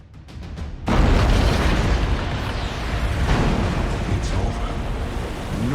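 An explosion aboard a vessel in World of Warcraft: a sudden, loud blast breaks a quiet start, then settles into a long, roaring rumble that keeps going to the end.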